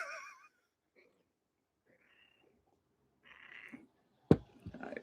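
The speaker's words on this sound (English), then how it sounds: "Fucking love this cat." A cat meows briefly and softly at the start, followed by a quieter mew later, with sharp knocks and bumps near the end in an otherwise quiet room.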